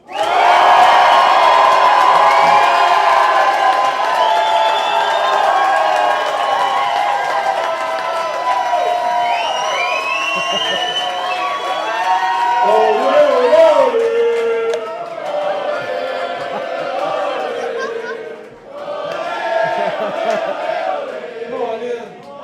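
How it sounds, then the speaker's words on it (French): A large live show audience shouts, screams and whoops at full volume in a sustained roar of many voices, loud and close, fading briefly near the end before swelling again. "On crie, on hurle."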